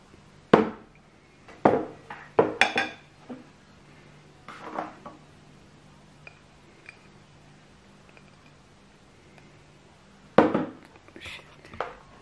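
Aloe vera gel and vodka being stirred in a container for homemade hand sanitizer, sharp scattered clinks and taps of a utensil against the vessel in bursts separated by quiet stretches.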